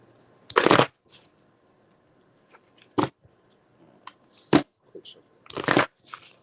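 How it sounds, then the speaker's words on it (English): Tarot cards are shuffled in short bursts. Four or five quick riffling flurries are separated by pauses, close and crisp against an otherwise quiet room. "Quick shuffle."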